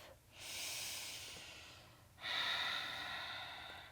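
Two slow, soft breaths during a beginner yoga session, each a long airy inhale or exhale, quiet and close with a short pause between.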